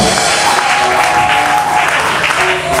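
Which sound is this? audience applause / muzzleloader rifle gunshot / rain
audience applause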